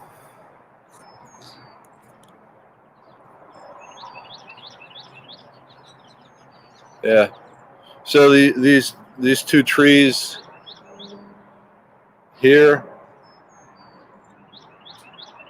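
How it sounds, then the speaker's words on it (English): Many small birds chirp faintly in the trees in the background while a person talks loudly in several bursts, the bird calls continuing between the voices. "there are just a lot of birds back here"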